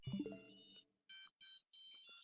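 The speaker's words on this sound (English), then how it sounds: "Oh, you've got to be kidding me. My phone. That's my phone." A mobile phone ringtone plays a bright melodic jingle, first with a lower tone, then repeated high chiming bursts separated by short gaps, alone without talk.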